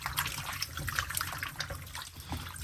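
Water splashes and trickles while oxtail is washed with lemon and distilled vinegar, a close, continuous wet sloshing and dribbling for a few seconds with no voices.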